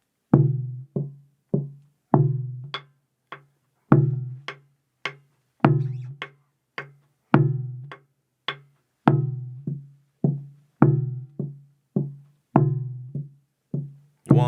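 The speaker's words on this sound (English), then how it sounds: "Of course, this is our waltz rhythm." A waltz rhythm in triple meter is played as a steady sequence of percussive plucked or struck tones, a strong low beat followed by two lighter ones, repeating cleanly with no talking.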